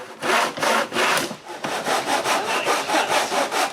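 A hand saw cuts wood in steady back-and-forth strokes, loud and close, with a brief pause partway through.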